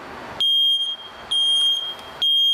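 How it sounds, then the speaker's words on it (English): Three loud, piercing electronic beeps from an ionization smoke detector being tested, each about a second long with short gaps, sounding close by. "I want to press that button so you can see this is a working smoke detector."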